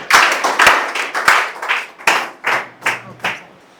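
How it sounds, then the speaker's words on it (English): An audience at an institute of technology talk gives a round of applause for a guest speaker, a burst of dense, fairly loud clapping that thins into separate rhythmic waves over a few seconds. "Please, a round of applause for him."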